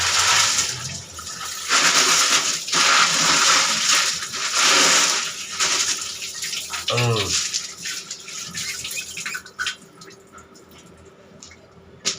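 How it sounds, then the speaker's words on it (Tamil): Mussels are rinsed by hand in water, with close sloshing, swirling and clattering shells in bursts that fade into scattered drips and light knocks near the end. "அதனால் ஒரு முறைக்கு 2 முறைக்கு 3 முறைக்கு சொல்கிறேன், நல்லா அலசிக்கணும்."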